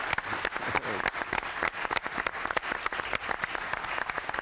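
Sustained, loud studio audience applause at a festive Yalda night comedy gathering with football guests, dense rapid clapping with sharp individual claps and crowd noise throughout.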